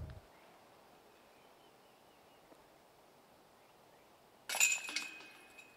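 Disc golf putt dropping into the basket chains at a premier tournament gives a sudden bright metallic jangle near the end that rings briefly after a long stretch of quiet outdoor ambience.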